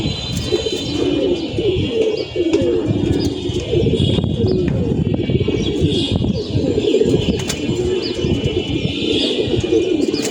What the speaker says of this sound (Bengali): নিচের কবুতর সব উপরে উঠে গেছে